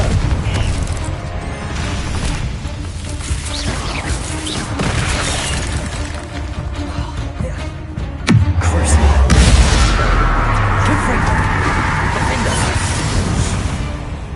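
A Confringo fire spell explodes beside an altar in a tomb in a Hogwarts game, one sharp blast cutting through steady game ambience, followed by a deep lingering rumble; a voice is heard in the clip.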